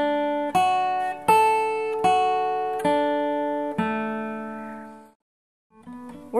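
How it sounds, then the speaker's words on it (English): Clean guitar picking a chord arpeggio, five ringing notes struck one after another with long decays, then a brief pause before a final note begins. "So now when we play a chord arpeggio"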